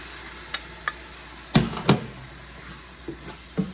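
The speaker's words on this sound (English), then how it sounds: "First I'm going to put the beef broth in. I have a cup of beef broth. I'm going to put that in." Beef broth goes into a hot pan for shepherd's pie, with a faint sizzle under a few sharp spoon clinks and knocks against the pan, some close and loud, spaced irregularly.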